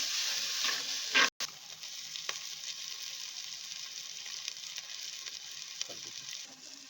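Onions frying in a pot with ginger garlic paste and salt for pot biryani, giving a steady soft sizzle with occasional stirring scrapes and a brief clatter early on.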